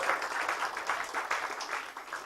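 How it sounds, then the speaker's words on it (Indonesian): Applause from attendees in a meeting room at a health-focused company seminar, a fairly quiet, continuous patter of many hands with gentle swells, heard alone without talk. "berikan tepuk tangan buat Anda semua yang hadir di ruangan ini."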